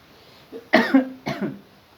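A feverish, sick child coughs twice in close succession, two short harsh bursts heard up close with no talking around them.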